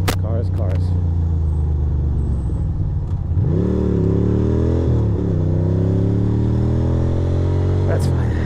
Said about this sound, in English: Oh, there's cars. Cars, cars, cars.